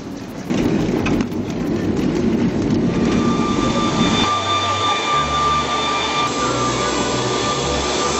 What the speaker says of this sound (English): After a 2-hour flight, we touched down at the Sunan International Airport